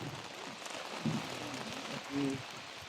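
Steady rain falls on a surface outdoors, a dense, even hiss throughout, with a couple of brief low voiced sounds partway through.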